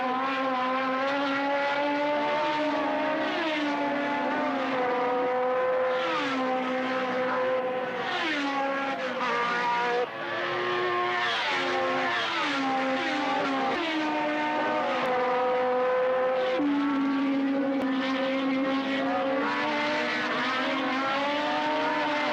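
Race cars at the Italian Grand Prix at Monza scream past one after another, loud high-pitched engines rising and falling in pitch as they pass close by, with no voices.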